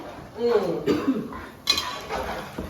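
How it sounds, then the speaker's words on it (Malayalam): A spoon stirs pork curry in a pan, with a few clinks and scrapes against the metal, one sharper knock near the middle and a voice speaking over it. "ഞാൻ ഇളക്കിക്കൊണ്ടിരിക്കുകയാണ്"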